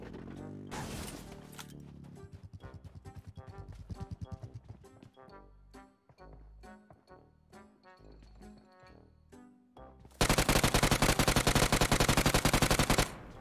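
Bursts of enemy gunfire in PUBG Mobile crack in rapid, rhythmic strings of shots over game music, ending in a long, loud sustained volley near the listener.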